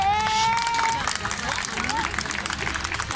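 A theater audience at Agha's Marine Theater at Port Grand breaks into applause to welcome a performer to the stage, a dense patter of clapping with crowd murmur after a brief whistle at the start.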